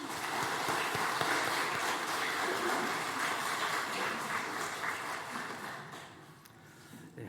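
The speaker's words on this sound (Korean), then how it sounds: "축복하고 격려하는 박수 합니다." A church congregation claps together after a choir and worship team finish singing, dense sustained applause filling the room for several seconds before tapering off at the end.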